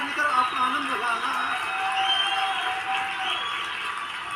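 Audience applause at a Hindi kavi sammelan, a broad, sustained wash of clapping and cheering from a large crowd, fairly loud and steady throughout, with a voice briefly heard over it near the start.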